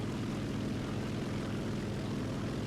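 An I-180S propeller plane in War Thunder flies with a steady, loud, droning engine roar that holds constant throughout, with no other sounds.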